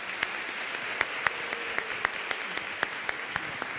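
A church congregation at a Christmas novena claps steadily in a sustained burst of applause, sharp individual claps standing out over a dense wash of hand claps, with no talking.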